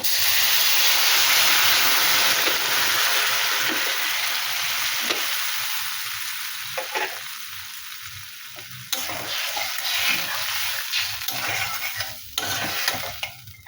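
Water poured into a pan of tengra fish curry, setting off a loud, hissing sizzle and steam that gradually settles into a quieter bubbling simmer with occasional stirring knocks, heard up close without talking.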